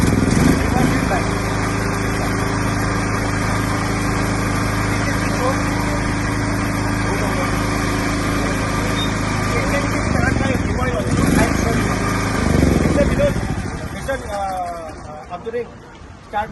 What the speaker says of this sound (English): it's an ultra compact noise version Bajaj and petrol generator set, self start